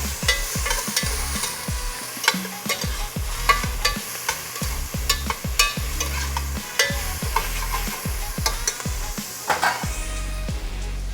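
Onions and hot pepper sautéing in a pot for Caribbean peas and rice: a steady bright sizzle under a regular rhythm of spoon strokes scraping and knocking the pot, close and continuous without any talk.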